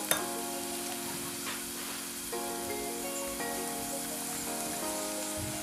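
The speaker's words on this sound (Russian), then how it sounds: "Пока тут жарится наш чесночок" Garlic fries in a pan, a soft steady sizzle heard close and quiet, with faint kitchen tones and light stirring sounds alongside.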